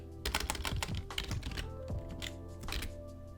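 Steady rapid typing on a computer keyboard while coding a multiplayer game in Unreal Engine, a continuous run of close, crisp key clicks with a few firmer thunks, heard alone without speech.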